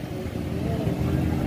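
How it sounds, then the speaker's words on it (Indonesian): A motorcycle engine drones past on a road near a bridge, a steady mid-pitched hum with faint revving, moderately loud with no talk over it. "Banyak sekali motor lewat teman-teman."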